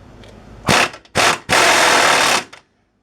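Power tool loosening the rear bolt of a Polaris Sportsman ATV's front bushing: three loud, close mechanical bursts of rattling, the last the longest, followed by quiet.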